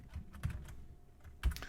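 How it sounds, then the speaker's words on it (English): Light, quiet keystrokes on a computer keyboard while entering an SQL command, a few scattered clicks with a slightly louder cluster of taps at the end. "Now notice I'm typing in an uppercase."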